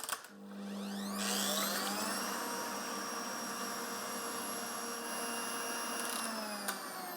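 An electric mixer beats egg whites for a meringue for oeufs à la neige, giving a steady, high motor whine that starts within the first second and runs evenly on its own to the end.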